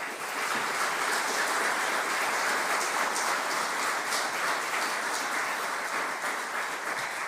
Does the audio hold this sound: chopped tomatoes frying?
no